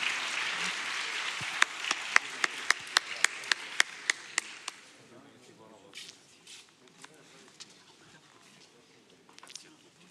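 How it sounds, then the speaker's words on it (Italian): Applause at an Italian regional day of remembrance ceremony fades over the first few seconds. A single clapper keeps a steady beat into it, then sparse scattered claps and murmured talk follow. "facciamo un forte applauso di gratitudine e di ringraziamento"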